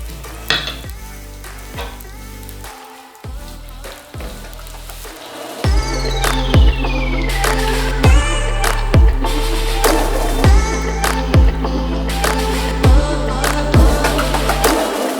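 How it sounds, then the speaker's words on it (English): Belacan-marinated chicken fries in hot oil with a loud, continuous sizzle, punctuated by repeated sharp clacks and scrapes from big chopsticks or utensils against the pan. "It's already starting to sizzle."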